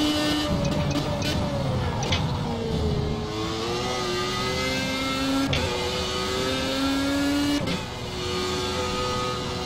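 A race car engine screams at full throttle in a racing video game, a loud sustained whine rising and dropping with gear changes and occasional sharp clicks, steady and close with no talk.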